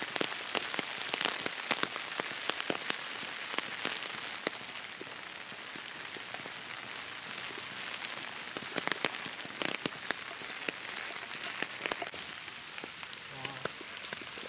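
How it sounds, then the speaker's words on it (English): Steady rain pours on a surface on a rainy day, a dense continuous hiss with scattered sharper drop ticks throughout, loud and close. "such a rainy day."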